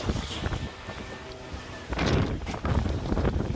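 Wind blusters across a microphone at the beach, a rough, rumbling roar that swells louder in gusts toward the end, with no voices.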